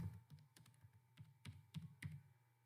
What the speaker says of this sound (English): Item name I am typing now.